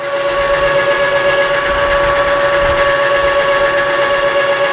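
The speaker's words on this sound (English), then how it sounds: "we got our parting tool in here, and we're just starting to pierce the outside" A lathe parting tool bites into metal stock, a loud, steady, close-up ringing screech with sustained tonal whine and a brief dip in hiss midway, with no voices.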